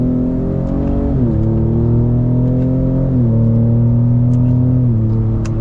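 Shelby Baja Raptor truck with a 10-speed automatic, shifted into manual mode and accelerating hard, its engine droning loud and close as the pitch climbs and drops back through three quick gear changes, with faint exhaust pops.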